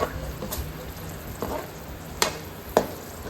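Toppings for mutton mandi fry in a pan, a close, steady sizzle broken by a few sharp stirring clicks and scrapes.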